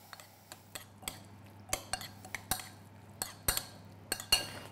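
A spoon mixes tomato salsa with olive oil in a bowl, giving a quiet, irregular run of light clinks and taps against the dish over a faint low hum.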